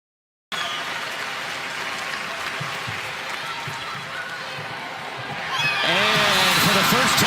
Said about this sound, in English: it's unbelievable to hear this Nebraska crowd on the road